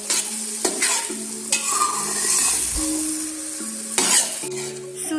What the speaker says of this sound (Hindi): सूजी फ्राई होना शुरू हो गई है